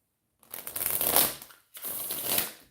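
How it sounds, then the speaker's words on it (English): A deck of tarot cards shuffled up close in two quick riffling bursts separated by a short pause, crisp papery flutter without any voices. "Let me shuffle this deck up."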